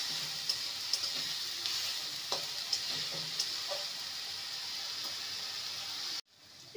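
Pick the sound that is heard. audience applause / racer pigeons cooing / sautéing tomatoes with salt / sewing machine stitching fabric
sautéing tomatoes with salt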